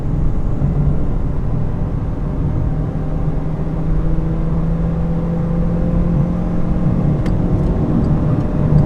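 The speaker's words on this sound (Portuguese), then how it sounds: "vamos acelerar tudo para ver como é que o carro retoma a velocidade" A 2019 Chevrolet Onix Joy is driven hard up a highway incline at full throttle through the gears, heard from inside as a steady, loud engine drone and road rumble that holds through the whole stretch.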